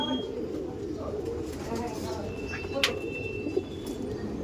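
Soft cooing of racing pigeons at a loft, low and continuous at moderate distance, with faint chirps and background noise throughout.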